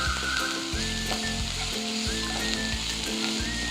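Green chillies sautéing in a hot pan give a loud, continuous sizzle, with steady stirring scrapes and faint tonal ringing running underneath.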